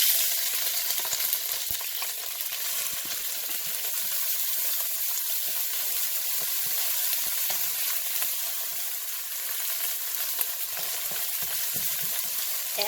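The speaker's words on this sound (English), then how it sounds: "we're gonna saute the eggplant" Eggplant sautéing in oil with garlic, lemongrass, kaffir lime leaves and Thai chili peppers gives a steady, even sizzle with faint stirring and scraping throughout, and no one speaks.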